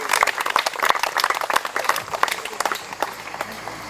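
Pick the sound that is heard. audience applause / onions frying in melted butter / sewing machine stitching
audience applause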